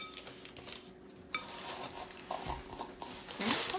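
A spoon scrapes and clinks against a pot while stirring a melted marshmallow mixture for Rice Krispie treats, with faint irregular knocks and a sharper scrape near the end, close and quiet.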